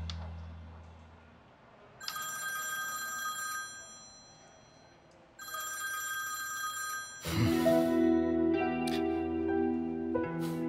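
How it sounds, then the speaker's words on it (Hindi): A telephone rings in repeated bursts, each a bright electronic trill lasting about three seconds, with a pause between them. A louder, fuller tone comes in partway through. "निहाद, मुझे पता था इस बार तुम फोन जरूर उठाओगे।"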